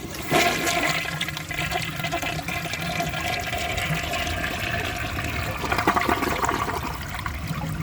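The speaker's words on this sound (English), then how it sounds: "So let's give this toilet a flush and see how it does on tests." Original-valve 1964 Sears toilet flushing, a loud close rush of water that runs unusually long and then trails into tank refill trickling, with no talk over it.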